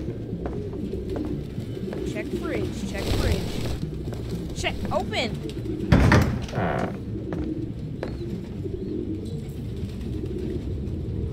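Pigeon cooing in a Detroit: Become Human game scene, soft repeated coos under steady background ambience, with someone talking over it and a sharper burst of noise midway.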